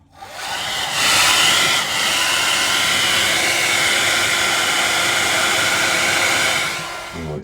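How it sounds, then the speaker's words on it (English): A hair dryer blows a steady, loud, broadband rush while drying wet boiler circuit boards during repair of an Ideal Mini C24 ignition fault. It starts up abruptly and holds for several seconds before cutting off. "All good breakdown engineers carry a hairdryer."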